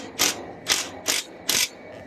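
Four quick ratchet bursts, evenly spaced and close, as a ratchet drives screws back into the panel of a Carrier Infinity inverter heat pump, with no talk.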